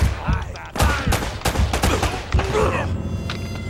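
Enemy gunfire in the video game Uncharted: Drake's Fortune crackles in dense, rapid bursts and overlapping shots, loud and continuous throughout.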